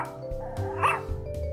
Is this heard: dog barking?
yes